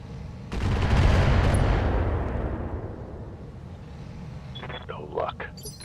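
Mech weapons fire in the RogueTech video game: a loud broadband blast lands about half a second in and rumbles on, slowly decaying over several seconds, and a short radio-style voice comes near the end.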